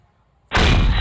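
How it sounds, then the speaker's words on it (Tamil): A sudden, loud bomb explosion from a gun simulator game bursts in after half a second of near silence, then a broad roaring rumble sustains to the end. "நெக்ஸ்ட்டு எக்ஸ்ப்ளோஷன், அதாவது பாம்."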